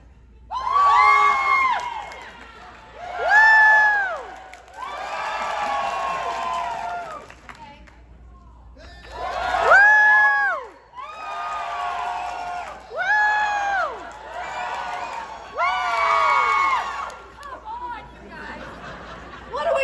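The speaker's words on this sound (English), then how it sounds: "especially all the people screaming in the front, that's all I hear" A crowd at a Star Trek convention screams and cheers in loud bursts, with high shrieks and whoops rising and falling, short lulls between waves and chatter running throughout.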